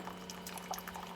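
Hot water from a Keurig machine pours steadily into a cup, a soft continuous trickle with light bubbling over a faint low electrical hum.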